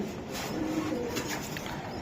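Pigeons, Budapest and racer breeds at a pigeon seller's, coo softly in low murmuring calls over a faint background hum, quiet and close with no talking.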